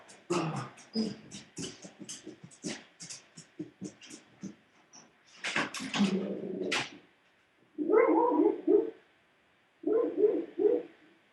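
Golden retriever barking indoors, with a run of short clicks and scuffles first, then a few muffled barks in close bursts of three or four.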